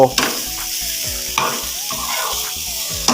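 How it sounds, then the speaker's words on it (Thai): Eggs with coconut and shrimp paste frying in a pan while being stirred, a loud steady sizzle broken by repeated scraping strokes of a utensil against the pan. "คนไปให้ไข่มันสุกให้มันเหลือง"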